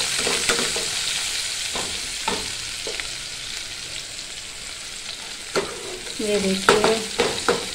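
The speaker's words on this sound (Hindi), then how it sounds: "अब मैं इसमें प्याज डाल देती हूँ। प्याज और हरी मिर्च मैंने काट के रख दी थी। तो इनको अच्छे से फ्राई कर लेते हैं।" Chopped onions and green chillies sizzle in a pan while being stirred, a close, steady frying hiss broken by scraping strokes, with a short spoken phrase near the end.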